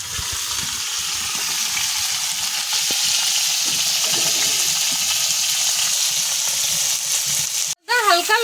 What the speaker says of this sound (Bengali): এখানে পেঁপে আছে, আলু আছে, আর ভেন্ডি আছে, এই সবজিগুলো আমি এটার মধ্যে দিয়ে দেবো।